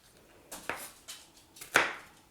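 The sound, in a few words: chopping onion finely with a knife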